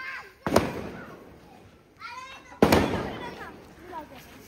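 Two sharp firecracker bangs burst outdoors about two seconds apart during a festive celebration with rockets, each followed by a short crackling tail, with voices including children talking between them.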